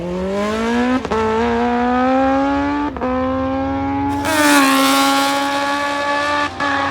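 A turbocharged Kawasaki KZ1000R drag motorcycle runs hard and close, a loud engine whine climbing in pitch through several quick gear changes, each shift marked by a brief dip before the note rises again.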